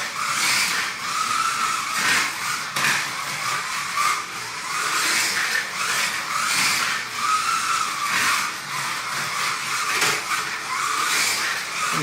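Urethane-tired slot cars slide and skid around the track in a steady rubbing, whirring run, fairly loud and continuous with rising and falling swells as the cars pass and drift.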